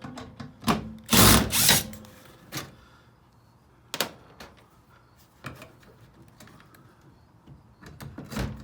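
A screw is driven into wood during floor corner repairs on a Taylor coach, heard as a short, loud power-driver burst followed by scattered knocks and clicks of handling nearby, with no talking.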